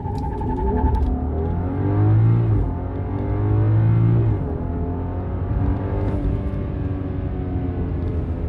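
2014 BMW 640i Gran Coupé with a 320 hp petrol engine accelerating hard from inside the cabin, a steady engine drone rising in pitch through the gears with brief dips at shifts, loud and without talk.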